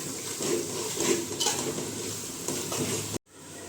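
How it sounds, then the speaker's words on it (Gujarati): Spinach and mung beans cook in a pan while being stirred, a continuous close sizzle with soft spoon scrapes and occasional clinks against the pan, cutting off abruptly near the end; no speech. "ને ફરીથી મિક્સ કરી દઈશું ને પાલકને 5 મિનિટ ચડવા દઈશું"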